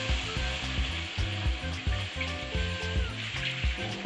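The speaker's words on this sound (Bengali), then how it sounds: "কষাটা হয়ে গেলে এর মধ্যে আমরা গরম জলটাকে ঢেলে দেব।" Hot water goes into a pan of sizzling fish curry masala with taro, giving a loud steady frying hiss with rhythmic stirring knocks and a watery rush, close up and without voices.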